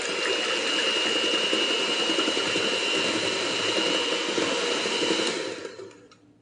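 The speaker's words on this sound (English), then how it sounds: "I'm going to go ahead and mix this a little bit" Ingredients for a German chocolate earthquake cake whirring in a steady mechanical mixing drone, loud and close, running evenly for about five seconds before winding down and stopping.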